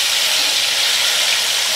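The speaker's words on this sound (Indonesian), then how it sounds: "kita goreng kacangnya Lur nih" Peanuts frying in hot oil give a loud, steady, close-up hiss with a dense sizzle, continuous and unbroken with no voices over it.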